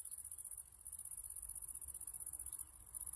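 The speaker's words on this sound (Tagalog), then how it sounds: "Ang daming bubuyog." Steady high insect buzz around sunflowers during bee nectar-gathering, a continuous shimmering drone with a faint low rumble underneath and no speech.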